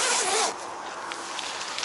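A tent's entrance zipper on a budget two-room tent is pulled open in one quick, loud rasping stroke, then a quieter rustling hiss carries on close by, with no talking.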